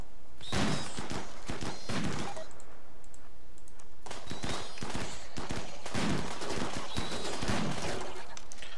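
A RimWorld team fires together in a desert battle, clusters of rapid, crackling shots repeating in bursts roughly every couple of seconds, mixed with clicking.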